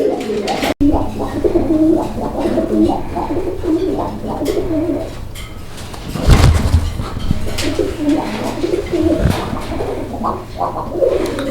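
Domestic pigeons, a breeding pair kept for sale, coo loudly and close by in repeated low, throaty phrases, with a burst of handling or wing noise partway through and no talk.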